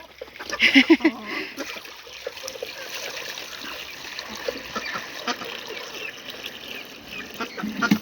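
Water pours from a small 3-litre watering can onto tomato plants in a garden bed, a steady trickle and splash with a louder burst near the start, under faint background noise.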